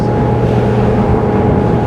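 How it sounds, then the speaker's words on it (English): A Ryck 280 day boat's engine cruising at steady speed, a loud continuous low drone with even hum and no speech. "I can hear the engine is working quite effortlessly."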